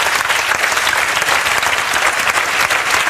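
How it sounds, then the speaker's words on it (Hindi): Audience clapping in a steady, dense burst of applause from many people, loud and continuous with no voices over it. "एक बार सोनिया के लिए और उनकी सास के लिए जोरदार ताली बजाओ"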